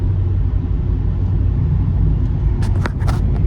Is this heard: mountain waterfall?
no